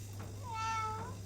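A single soft cat meow, drawn out and rising then falling, quiet and close over a faint background hum.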